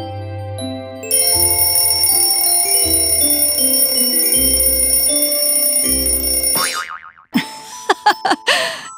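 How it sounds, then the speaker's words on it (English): Cartoon alarm clock in a children's animated show ringing with a sustained tonal chiming melody, then cutting off into a few springy boing-like bounces. "Turned off the alarm clock."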